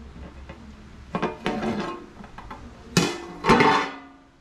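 A lid is lifted off a cooking pot of vegetable pulao simmering on low flame, giving several close metallic clanks and clatters, the loudest two near the end, with no talk.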